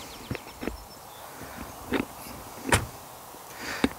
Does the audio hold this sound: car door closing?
yes